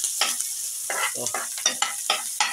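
Ginger frying and being stirred in a pan on a home stove, steady sizzle with bursts of scraping and stirring, close and moderately loud, no talk.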